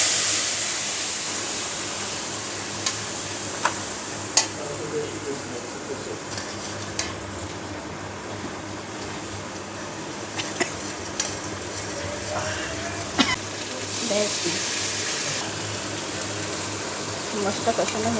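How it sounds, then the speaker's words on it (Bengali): Chilli and turmeric powder spice paste frying with a splash of water in a pan, a steady soft sizzle with occasional stirring scrapes and clinks, close and fairly quiet throughout. "একটু জল দিয়ে মশলাগুলো কষিয়ে নেব।"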